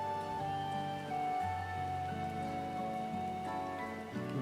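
Soft rainfall in the video game Final Fantasy XIV: Dawntrail, a steady patter heard faintly beneath sustained musical tones and harmonies from the game's soundtrack.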